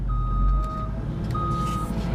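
A log truck's reversing alarm sounds two steady, evenly spaced beeps at a landing, with a low idling diesel rumble underneath throughout.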